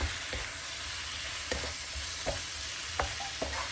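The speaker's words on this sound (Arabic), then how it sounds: "صافي غادا نبقاو غير بالتحريك بحال هكا، مره نحركوها حتى تحمر لينا" Potatoes frying in a pan with a steady sizzle while a utensil stirs them, giving several soft scraping knocks spaced across the stretch, with no voices.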